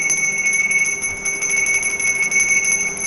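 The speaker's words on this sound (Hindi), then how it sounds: "ये घंटी है। जब हम इसको बजाते हैं" A bell rings with bright, sustained metallic tones that shimmer continuously at a steady level.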